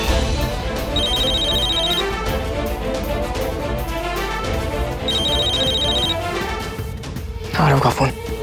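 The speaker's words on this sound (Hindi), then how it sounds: "आरव का फोन" A phone's ringtone sounds in two distinct bursts of high electronic trilling, each about a second long, over steady background music and room sound in a Hindi TV drama scene, followed by a brief louder clatter near the end.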